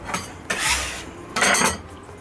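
A pizza is set down on a metal tray with two short scraping, rustling contacts, close and moderately loud.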